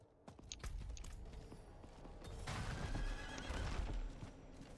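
A horse in the video game Diablo 4 whinnies with a bright, rising neigh amid clip-clopping hooves at a walking pace, the hoofbeats growing heavier and louder in the later seconds.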